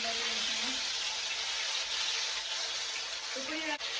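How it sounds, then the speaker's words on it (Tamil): Mixed fish frying in hot oil for a Sri Lankan Tamil recipe, a steady close sizzling hiss that runs throughout, with a voice talking faintly over it. "மிக்ஸ் பண்ணி வச்சிருக்கிற இந்த ஃபிஷ்ஷை வந்து இப்படி போட்டு பொறிக்க"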